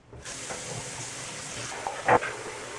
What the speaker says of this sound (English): Alright, I just filled up my sink with some hot tap water.